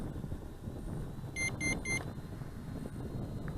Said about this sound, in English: we hear some beeps from the remote control